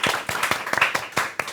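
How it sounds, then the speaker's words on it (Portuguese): Sparse, quiet clapping from a small studio audience on a podcast, about a dozen separate claps in uneven rhythm over a short moment, with no voices over it. "Uma salva de palmas, senhoras e senhores!"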